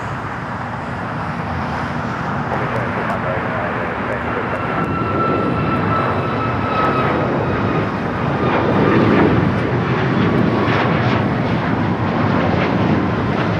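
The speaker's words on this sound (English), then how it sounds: "That was United 394 taking off to Cleveland, Ohio on the MAX 8" A United Boeing 737 MAX 8 jet takes off from LAX, its engines a broad, steady roar that builds slightly over the span, with faint traffic noise underneath.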